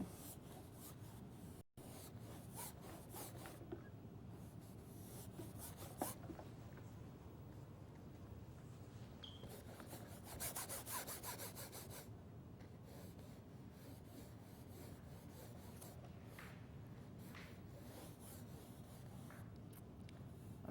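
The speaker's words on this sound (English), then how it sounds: "I'm scrubbing hard where I decided I didn't want my drawing to be, to get rid of that" A paintbrush scrubs hard across a painting surface to lift away part of a drawing, a steady, close, dry rubbing and rasping that keeps up in continuous strokes with a few brief pauses.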